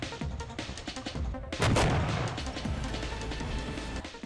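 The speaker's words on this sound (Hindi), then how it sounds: "रूस के सैनिकों ने भी यूक्रेन के खिलाफ होवित्जर तोप का किया इस्तेमाल।" Howitzer artillery shells being fired in combat in Ukraine: a series of rough booms and blasts over dense background noise, with the heaviest blast about a third of the way in and steady rumbling after it.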